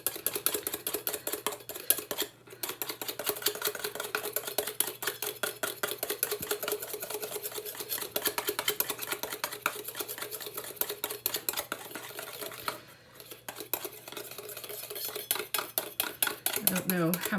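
A whisk rattles rapidly and continuously against a bowl while whipping dalgona coffee until thick and creamy, a fast rhythmic clatter with two brief pauses.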